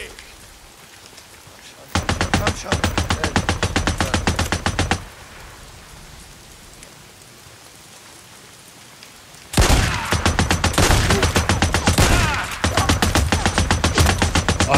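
Bursts of rapid automatic gunfire in the post-apocalyptic video game Days Gone, one long volley and then a louder extended barrage with short breaks, over a quiet rain-like ambience between bursts.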